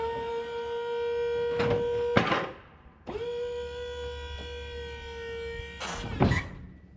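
Hydraulics on a sawmill whine steadily as a black walnut log is tipped flat, broken by two loud clunks and a short pause before the tone resumes.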